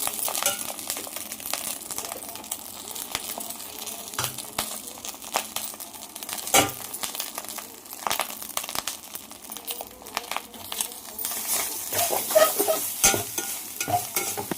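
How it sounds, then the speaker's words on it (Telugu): Hot rice being stirred and tossed in a pan for egg fried rice, with a steady soft sizzle and frequent scraping, clinking strokes of a spoon against the pan, close and alone without talk. "వేడి రైస్ కలిపేసేసుకున్నాం."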